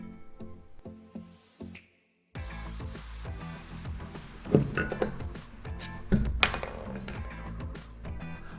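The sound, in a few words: beer bottles clinking for a celebratory beer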